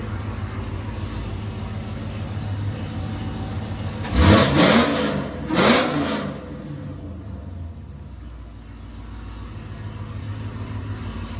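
Dodge Hellcat fitted with old mufflers revs twice in quick succession, two throaty swells rising out of a steady muted idle and settling back, heard close with no talking.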